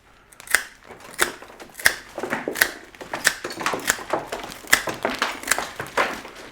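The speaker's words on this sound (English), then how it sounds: "I turn it upside down and we're going to cut straight across" Scissors snip straight across the stems of a hand-tied thistle and rose bouquet, held upside down for aqua packing. A quick series of crisp, close cuts repeats in an uneven rhythm with no talk.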